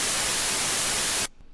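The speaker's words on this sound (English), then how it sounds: "Then I've just got white noise," Full-band white noise sample from a free color bass sample pack, a steady loud hiss that cuts off abruptly near the end into near silence.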